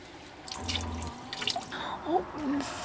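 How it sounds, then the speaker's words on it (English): Dishes being washed at a van sink under running water, with splashing, clinking and dripping close by, plus faint voice-like sounds in the background. "Speaking of, let's do some"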